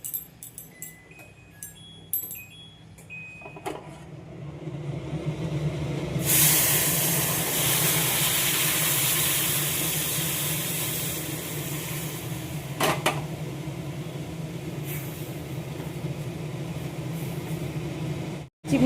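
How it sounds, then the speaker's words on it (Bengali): A kitchen chimney exhaust hood switches on and runs with a loud, steady broadband whoosh that holds for many seconds, after a few faint clinks at the start. "চিমনিটা অন করে নিয়ে আগে"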